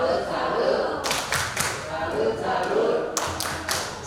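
An audience at a seminar on women's empowerment services does a rhythmic 'tepuk salut' clap, sharp clustered claps in patterned bursts over a murmur of voices.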